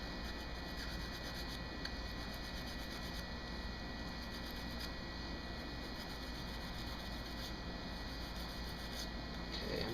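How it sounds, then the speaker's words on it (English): Steady, faint scrubbing of a brush working old grease and grime off the slide of a Glock 17 pistol, a continuous soft rasp with no pauses or voices. "I'm going to brush away all that grease, all that grime that's built up."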